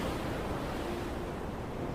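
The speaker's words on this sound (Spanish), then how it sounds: "Cada vez más altas las olas. Empezaron a tener miedo, porque las olas anegaban el barco." Storm waves surging at sea, swamping a boat, a steady dense roar of surf and wind filling the whole stretch with no voices.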